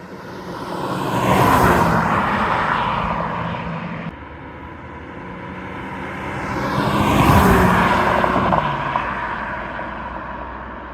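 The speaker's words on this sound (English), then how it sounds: "We're gonna do another little pull right here. This is 25 miles an hour in second gear." A Mercedes-Benz C350 Coupe accelerating hard in second gear from about 25 mph: two loud, rising engine pulls with a drop-off and gear-change lull between them, heard close with no voices.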